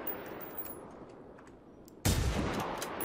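A single gunshot in the video game Generation Zero cracks out abruptly after a quiet stretch, loud and sharp, with a lingering noisy tail.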